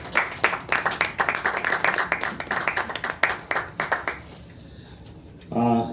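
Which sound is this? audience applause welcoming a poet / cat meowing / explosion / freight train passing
audience applause welcoming a poet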